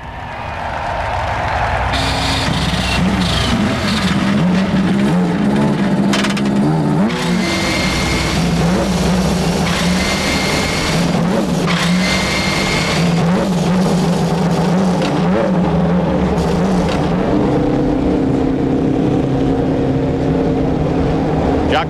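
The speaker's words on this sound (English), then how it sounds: "the engines fire up and down the line" IndyCar race engines fire up along the starting grid at the 1994 Marlboro 500 at Michigan, a loud rising roar of many motors revving and droning together, with a commentator's voice partly over it.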